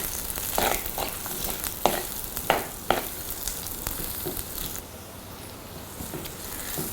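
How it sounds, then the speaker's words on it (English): Garlic and onions hit hot oil with curry leaves and pandan leaves, giving a close, continuous crackling sizzle with several sharp stirring clicks and scrapes, no talking. "I add curry leaves and pandan leaves, and then I am going to add the garlic and the onions."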